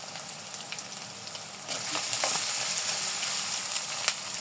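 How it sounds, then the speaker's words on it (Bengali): Chicken frying in a pan for a dragon fruit potato chop recipe: a steady, close sizzle that swells louder partway through, with faint scraping stir sounds and no talking. "একটু ভেজে নেব।"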